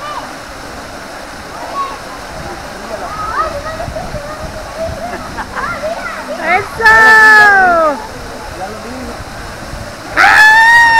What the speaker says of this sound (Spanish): Miren qué chula la cascada.